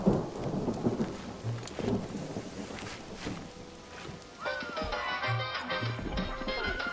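Thunderstorm with rain in the fantasy management game Mind Over Magic, with low thunder rumbles and steady rain, and a few bright chiming game sounds layered on top near the end.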